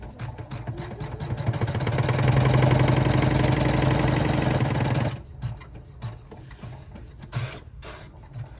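A sewing machine stitches a zipper onto a rucksack in one continuous fast mechanical whir for about five seconds, then stops, followed by scattered clicks and handling of fabric.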